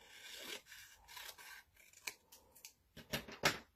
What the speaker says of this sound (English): I'm going to just trim them up so they're the same